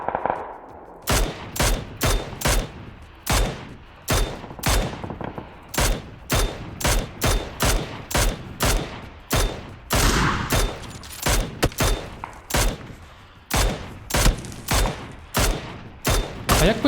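Rapid bursts of automatic gunfire in the video game PUBG crack out in quick succession, loud and sharp, with short pauses between volleys and no talking.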